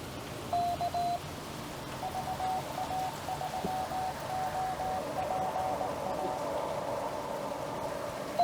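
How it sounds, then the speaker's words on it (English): Rain patters steadily on a tin roof overhead, a dense hissing drumming that continues throughout while faint Morse code beeps cut in and out over it. "it's raining on a tin roof above my head."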